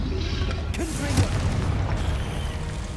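A Confringo blasting spell explodes in Hogwarts Legacy: a loud, dense burst of booming, rumbling blast noise that fills the whole moment, with a voice shouting over it.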